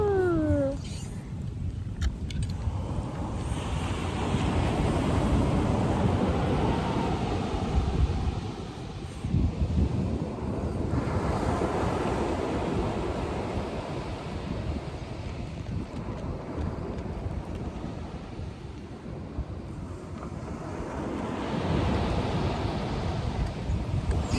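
Strong wind roars against the microphone over the wash of seaside waves, with a brief high cry near the start.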